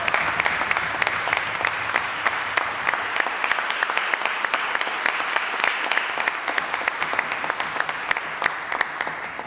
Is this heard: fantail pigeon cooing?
no